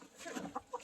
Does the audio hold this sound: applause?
no